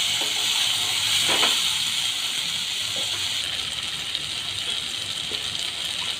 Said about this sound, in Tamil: வெங்காயம் வதங்கின உடனே அதில் ஏற்கனவே கட் பண்ணி வச்சு தக்காளியும் சேர்த்துக்கலாம்.